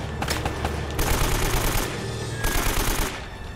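Loud bursts of automatic gunfire from the video game Uncharted: Drake's Fortune, rapid rattling volleys in two main stretches with brief gaps between them, close and dense, with no voices.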